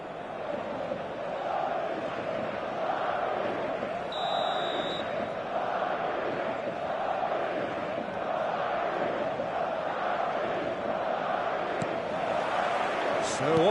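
Stadium crowd noise from an eFootball match on PS5, a steady loud roar of cheering fans filling the whole stretch with no letup, rising slightly near the end.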